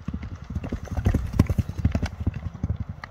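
A horse from a newly arrived batch of sale horses walks off, its hooves clip-clopping in a steady, close, fairly loud rhythm with no talking over it.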